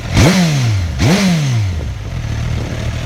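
A Suzuki GSX-S1000F motorcycle engine on its stock exhaust is blipped twice in quick succession, each sharp rev climbing and falling away, then settling into a loud, close idle with no talk.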